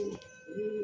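Madrasi highflyer pigeons give a low, continuous cooing throughout a brief moment, close and fairly steady, with a faint background hum.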